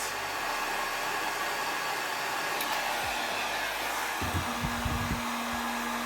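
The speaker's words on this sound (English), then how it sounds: "you take your heating fan, give it some heat" A heat gun blows a steady, loud rush of hot air onto chrome wrap foil on a guitar body, with a low hum and a few thumps of handling near the end.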